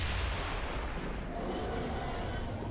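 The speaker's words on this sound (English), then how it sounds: "So now it's a much less impressive explosion." Dull explosion from the XCOM 2 video game, a muffled rumbling blast with steady low crackle throughout, heard alone without talk.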